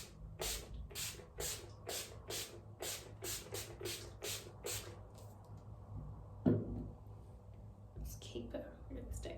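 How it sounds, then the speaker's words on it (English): Urban Decay All Nighter setting spray misted onto a face, about a dozen quick close hissing pumps in a rapid rhythm, then a pause and a few more sprays, with faint talking underneath. "I'm just going to be setting my face with the Urban Decay All Nighter Spray"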